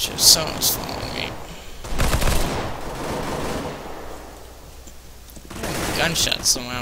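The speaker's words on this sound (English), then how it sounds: "Gunshot somewhere, huh?" Bursts of gunfire in Counter-Strike: Global Offensive crack out in a few sharp volleys, loud at first then more distant, with broadband noise between them.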